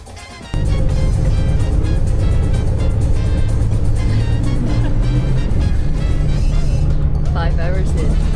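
A long-distance bus on a road trip to Cuenca, Ecuador, gives off a loud, steady engine and road rumble that runs throughout, with people talking over it.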